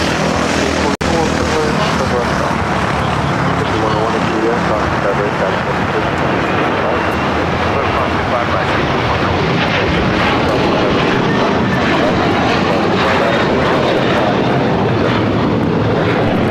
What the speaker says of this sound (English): that was American Airlines 1815 taking off to Miami on the A321